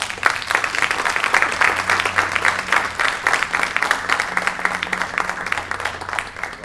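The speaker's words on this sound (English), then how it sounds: "we can have a round of applause for our panelists here" Audience applause for a panel of speakers at the close of a moderated discussion, a steady dense wash of many hands clapping throughout, fairly loud and continuous.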